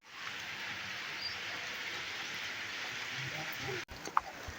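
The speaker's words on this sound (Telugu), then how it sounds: "చినుకులు అయితే పడుతున్నాయి అన్నమాట" Light drizzle of rain pattering softly and evenly, a faint continuous hiss of small drops that cuts off abruptly near the end, followed by a brief knock.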